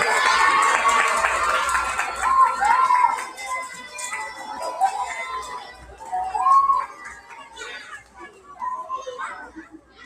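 Students at a summer school graduation cheer in scattered bursts, high children's shouts mixed with chatter and crowd noise that swell and dip repeatedly.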